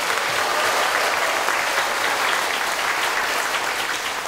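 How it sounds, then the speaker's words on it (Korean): A crowd at an outdoor community talk show in Seocheon, South Chungcheong, gives a dense, steady round of encouraging applause that stays loud and even from start to finish, with no voices over it. "여러분 큰 격려의 박수 한번 보내주시죠"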